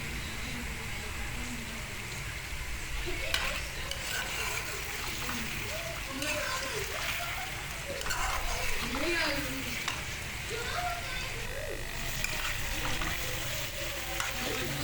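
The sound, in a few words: stirring chicken feet curry masala in a pot with a spoon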